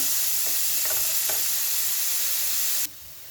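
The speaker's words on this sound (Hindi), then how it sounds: "3 से 4 मिनट जो है हमने गाजरों को हल्की आंच पर जो है इनको फ्राई कर लिया है" Carrots frying over low heat in a pan for Afghani pulao give a steady close sizzle, with a few soft stirring scrapes before the sizzle abruptly drops off near the end.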